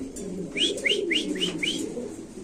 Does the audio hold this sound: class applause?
no